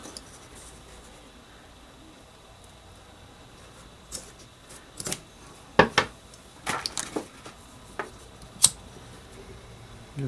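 Paracord ends being snipped with scissors while making a buckled survival bracelet: a handful of sharp, separate cuts and clicks in the second half, close and fairly quiet over a light background hiss.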